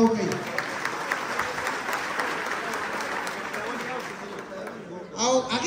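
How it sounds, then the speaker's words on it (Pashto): Applause from an audience of Afghans gathered in Paris, steady dense clapping sustained for about five seconds before dropping off, with a voice breaking in over the tail end. "په ویاړ یې چکچکې ورته وکړي"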